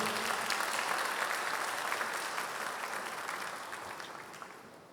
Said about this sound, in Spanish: denle un aplauso a Dios por ese encuentro que vamos a tener